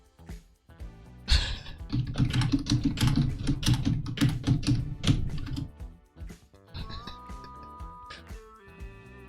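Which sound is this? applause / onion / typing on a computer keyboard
typing on a computer keyboard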